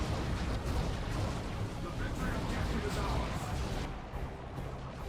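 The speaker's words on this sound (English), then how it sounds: "That's going to be a grenade going out from some more infiltrated scouts." Grenades thrown by infiltrated scouts exploding in the real-time strategy game Dawn of War II: Retribution, heard as a steady, dense wash of battle noise with overlapping blasts and gunfire at a moderate, even level.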